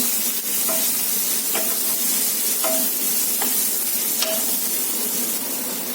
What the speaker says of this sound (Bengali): তো পেঁয়াজটা একটু ভাজা হয়ে গেছে।